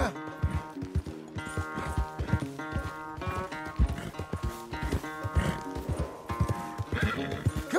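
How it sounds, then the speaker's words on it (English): A horse in Red Dead Redemption 2 neighs and whinnies repeatedly over steady clip-clopping hooves, close and clear, with no talking. "Where's that big, mean horse?"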